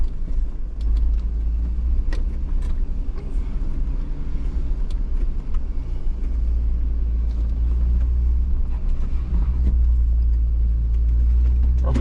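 A Jeep without lockers crawls up an easy off-road trail, its engine a steady, loud low rumble with occasional knocks and clatter from the rocky ground.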